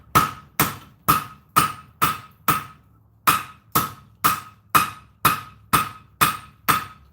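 Hammer blows on cable Damascus steel drawing out a tail at the forge, thirteen sharp ringing strikes in two steady runs with a brief pause between, loud and close with no talk.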